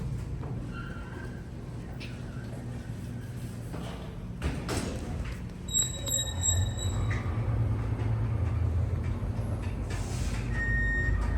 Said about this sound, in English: Now this is what I call a big freight elevator.